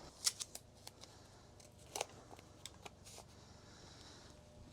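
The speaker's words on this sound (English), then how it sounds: "I'm also going to tape off the intake holes" Tape being pulled and pressed over the intake holes of a 1994 Toyota engine, a quiet run of short crinkling rips and snips spaced irregularly, close by, with no voices.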